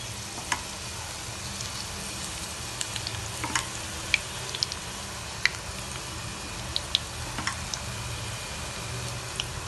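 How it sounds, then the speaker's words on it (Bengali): Gram flour batter frying in hot oil for motichoor laddu, a close, steady sizzling crackle with scattered sharp pops and ticks throughout. "এখন এটাকে আমি তেলে ভেজে নেব। তেলটা গরম হলে আপনারা এভাবে ভেজে নেবেন।"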